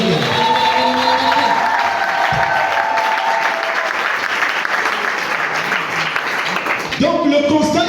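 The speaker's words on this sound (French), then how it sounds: "On acclame, on acclame" A church congregation at a French-language service breaks into loud, sustained applause and cheering that fills the room, with a voice rising briefly near the end.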